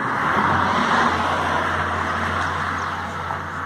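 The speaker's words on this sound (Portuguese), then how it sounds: "Passa carro de vez em quando." A single car rolls past on a quiet Sunday street, a smooth broad whoosh of tyres and engine that swells early and then fades gradually, with a low steady hum underneath.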